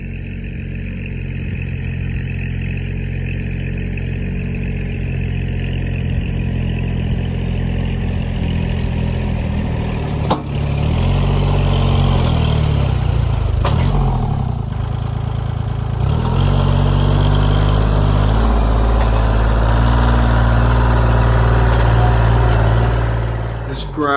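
A Kubota L2501 tractor engine drones loud and close without a break while hauling dirt, its pitch shifting slightly now and then.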